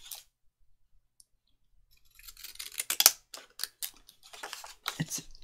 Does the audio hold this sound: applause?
no